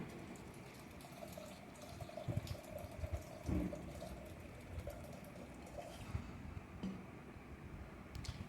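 About two glasses of water poured into a pot of washed rice before boiling, a quiet, steady trickle and splash with faint clinks, close by and without talk.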